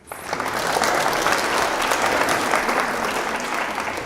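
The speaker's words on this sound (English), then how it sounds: "We like the encouraging clapping." An audience at a motorsport conference claps in sustained, dense applause that swells quickly and holds steady for several seconds, filling the room at close range.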